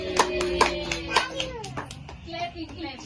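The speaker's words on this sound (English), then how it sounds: "clapping clapping" Family members clap along at a child's birthday party for Adi, a few sharp claps standing out over a background of chatter and children's voices.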